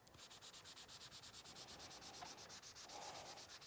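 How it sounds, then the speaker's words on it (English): An ink pad rubbed back and forth over a metal embossing plate, making a steady, rhythmic scraping with even strokes, soft and close, with no voices. "So all you do is take your ink pad and rub it over."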